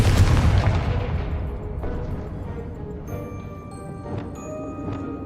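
A Confringo blasting spell in Hogwarts Legacy goes off with a loud booming explosion at the start, then rumbles away into a dull tail. A few fainter thuds and pops follow in the background.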